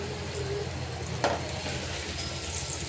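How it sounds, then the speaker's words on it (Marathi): Mackerel (bangda) frying in hot oil over a medium flame in a Koli-style kitchen: a steady, even sizzle throughout with one brief sharper crackle partway through, no voices. "आता हे बांगडे आहेत ना त्या ह्याच्यात तेलात टाकूया."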